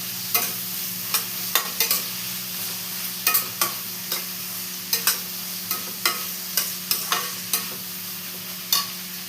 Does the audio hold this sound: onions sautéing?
yes